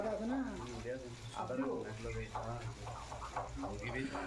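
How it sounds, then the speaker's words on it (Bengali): Onions and chilies sauté in a pan for an Arabian khebsa, a low steady sizzle running underneath continuous talking. "পেঁয়াজ মরিচ এগুলা কষানো শুরু করে দিছে।"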